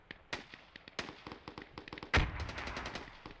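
Rapid gunfire crackles through a multiplayer video game match, a string of sharp close shots in quick bursts, then a heavier blast followed by fast repeated firing.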